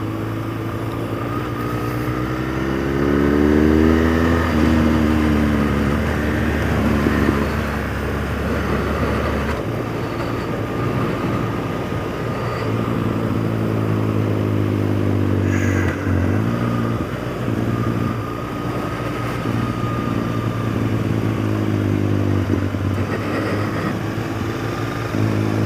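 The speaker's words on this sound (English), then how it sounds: "An African Twin and a KTM" A Honda Africa Twin and a KTM 1290 motorcycle riding past, rising and falling engine notes shifting through gears, fairly loud and continuous, with a steady rumble of traffic between passes.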